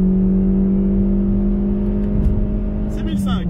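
A Peugeot 406 taxi engine revving steadily up toward 4000 rpm, a loud close droning hum rising in pitch, with someone talking over it.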